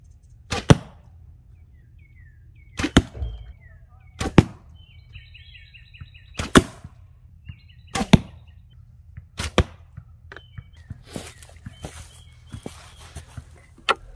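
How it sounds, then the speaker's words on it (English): Arrows loosed from a bow one at a time, seven sharp thwacks spaced a couple of seconds apart over a low steady outdoor rumble, with faint birdsong in the background. "you can shoot just about whatever arrow you want"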